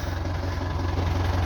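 A Belarus 520 tractor engine runs at a water bore during fitting work, a steady low idling drone that is close and constant through the short stretch, with no talk.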